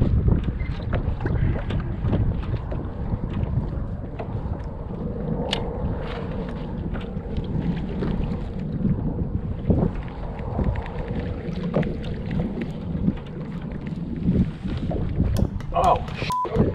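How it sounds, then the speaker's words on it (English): Wind blows over the water at the Galveston jetties, where a kayak sits in a steady 10-mile-an-hour south breeze. It makes a constant low, buffeting roar against the microphone, with small splashes and knocks on top. "the wind decided it was going to pick up and start blowing a steady 10-mile-an-hour breeze straight out of the south"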